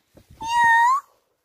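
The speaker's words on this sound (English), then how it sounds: "Oh, there's the cat." A cat in a video game gives a single clear meow, rising then holding a bright tone for about half a second, preceded by a few soft low thumps.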